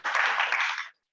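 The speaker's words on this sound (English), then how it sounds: "So can we get a round of applause?" A short, loud burst of clapping from a club general meeting audience lasts under a second and stops abruptly.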